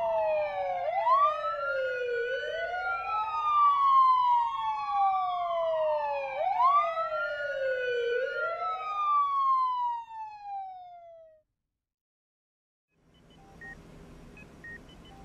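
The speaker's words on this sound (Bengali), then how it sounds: "জিপ আর অ্যাম্বুলেন্স শহরের বুক চিরে বো বো শব্দ করতে করতে ছুটে চলল" An ambulance siren wails in repeated rising and falling sweeps, loud and close, for about eleven seconds before cutting off into silence, with faint background noise returning near the end.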